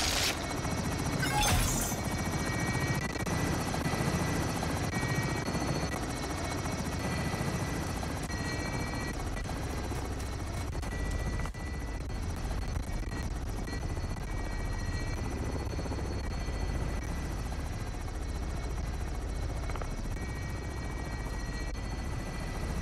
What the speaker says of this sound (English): Helo is in position for your deposit.